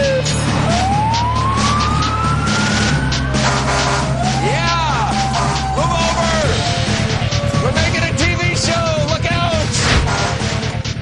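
A fire engine built by Sutphen Corporation in Central Ohio wails its siren in rising and falling sweeps over a loud, steady engine rumble, with voices briefly heard beneath the din.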